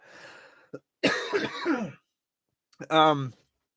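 A single harsh cough burst followed after a pause by a shorter throaty cough or throat clearing, close and fairly loud, with silence between.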